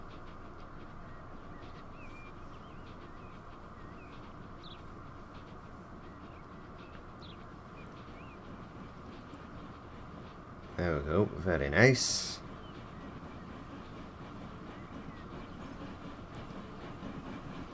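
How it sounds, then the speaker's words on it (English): A train in the video game Transport Fever 2 cruises straight through a station without stopping, a steady rolling rumble with a brief swell near the end as a voice comments over it. "This train should not stop because of it though. It should just cruise straight through this station."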